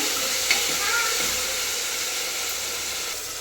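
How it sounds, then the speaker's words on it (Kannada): Tomatoes go into onions frying in a pan for a drumstick and radish sambar and are stirred, giving a steady close-up sizzle and hiss with a brief stirring clatter near the start. "ಈರುಳ್ಳಿ ಡ್ರೈ ಆದಮೇಲೆ ಟೊಮೊಟೊನ ಹಾಕ್ತಾಯಿದ್ದೀನಿ. ಸೊ ಮಿಕ್ಸ್ ಮಾಡಬೇಕಾಗುತ್ತೆ."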